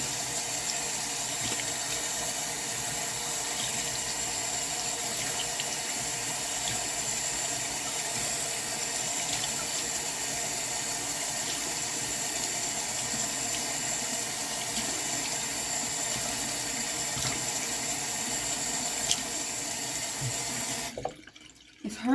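Tap water running steadily into a sink during washing, a continuous close rush that ends abruptly near the finish with a brief clatter.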